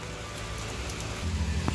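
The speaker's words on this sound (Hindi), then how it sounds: "ये बारिश पौधों का पानी देने के लिए आई है" Light rain falls steadily in a broad soft hiss outdoors, with a low rumble rising near the end.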